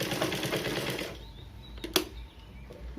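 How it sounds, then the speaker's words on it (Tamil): Sewing machine stitching the lining of a blouse front panel, a steady fast whirring run of stitches that stops after about a second, followed by faint handling clicks and one sharp tap. "பொறுமையாக தைங்க, தையல் விலகிராமல் கரெக்டாக அந்த லைனிங் பீஸோட ஓரமாகவே"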